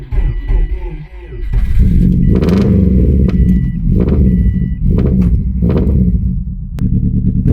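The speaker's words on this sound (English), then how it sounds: "There we go, the engine's running." Car engine cranked with an emergency jump starter kit, heard as a short churning crank before it catches and settles into a loud, steady idle with a few rhythmic pulses of revving.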